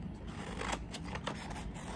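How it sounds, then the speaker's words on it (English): Scissors cutting a long strip of paper for a craft menorah, giving a steady close snipping and crisp paper rustle over about two seconds, with no talking. "I'm gonna cut out the long strip first."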